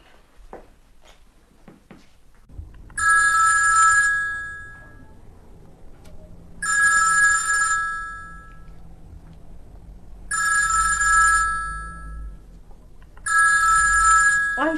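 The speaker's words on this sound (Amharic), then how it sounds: "አንሹ እንጂ ስልኩን" A telephone bell rings in four loud, evenly spaced bursts, each lasting about a second and a half, with quiet pauses between them in an indoor scene from an Amharic film.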